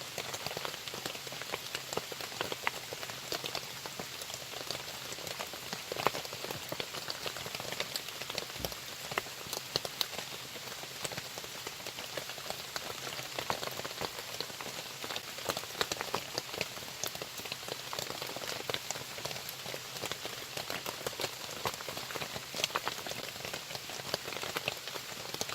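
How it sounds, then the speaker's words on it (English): Steady rain falls through the night at a woodland camp, a dense, even hiss of drops pattering on surfaces, constant and close with no voices. "And it has rained here all night."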